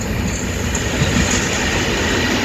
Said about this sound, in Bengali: এই যে অন্ধকার ছেড়ে চলে যাচ্ছে ট্রেন।